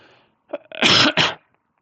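A single sharp sneeze with a short in-breath before it, close and loud, then quiet.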